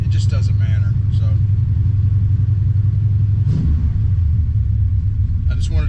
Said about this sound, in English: I just wanted to see what it sounded like at idle here stationary